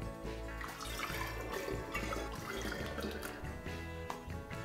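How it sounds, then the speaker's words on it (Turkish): Strained turnip juice (şalgam) pours continuously into narrow-necked bottles, a steady close liquid gush and gurgle with no talking. "Süzdüğüm şalgamı dar boğazlı şişelere alıyorum."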